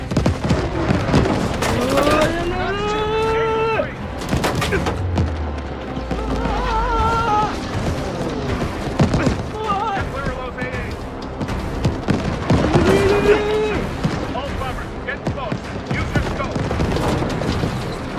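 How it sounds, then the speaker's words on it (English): Tracer gunfire and explosions in Call of Duty Vanguard's Battle of Midway, rattling bursts and booms beneath music and voices, loud and busy throughout. "What's that tracer fire?"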